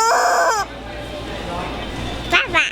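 A person imitates a chicken with a loud, wavering clucking squawk, then a stretch of quieter background noise follows before two short voiced sounds near the end.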